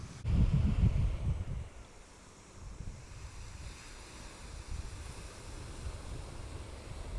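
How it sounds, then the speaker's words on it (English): Sea waves wash onto a beach under blue skies, giving a loud surge at first, then a soft continuous rushing surf with some wind noise. "the sound of the seas and the waves"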